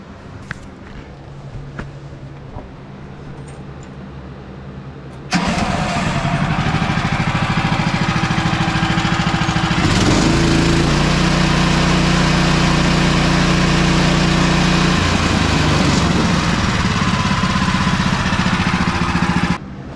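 A Woodland Mills HM-130 MAX sawmill engine roars loud and steady as it cuts cedar, kicking in abruptly after a quieter stretch and holding a continuous drone with a deeper band during the pass.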